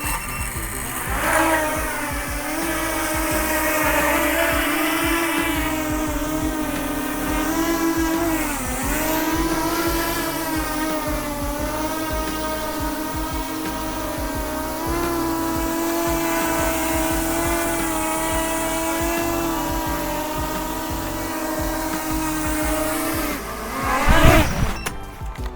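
An FPV drone hovering and flying in angle mode gives a steady, close, high motor whine with shifting pitch as throttle changes, ending in a brief louder surge.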